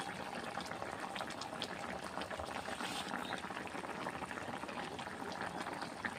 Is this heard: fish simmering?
yes